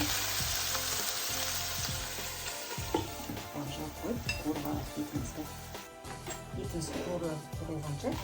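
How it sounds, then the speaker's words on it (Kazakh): Meat frying in oil in a covered pan, a steady close sizzle with crackling bursts running throughout, with faint talk at times. "Жауып қойып, қуырып алайық етімізді."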